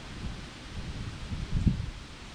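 Strong autumn wind blows through a yard scattered with fallen leaves, giving a steady low rumbling gust with soft rustling and one brief stronger surge near the end.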